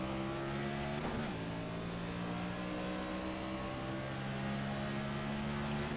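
A steady engine drone hums continuously at a constant pitch, with a brief shift in tone early on, loud and unbroken throughout, from a NASCAR car in the iRacing video game at Las Vegas Motor Speedway.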